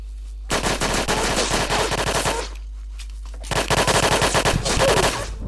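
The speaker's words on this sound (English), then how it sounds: "Oh well, that was a PPSH." PPSh submachine gun in Apocalypse Rising: Reimagined gameplay firing two long, rapid automatic bursts, loud and close, with a short pause between them.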